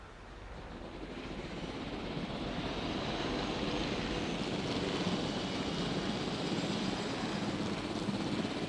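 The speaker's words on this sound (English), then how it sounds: "I don't want to get too high with the helicopter" A helicopter flies in the video game Jurassic World Evolution, a steady whooshing, rumbling drone that rises gradually in loudness and then holds constant, with no talk over it.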